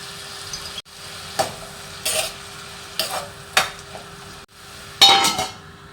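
Leafy greens fry in oil with salt and turmeric powder, giving a low sizzle broken by a spoon scraping and clinking against the metal pan in short, irregular stirs, with no one talking.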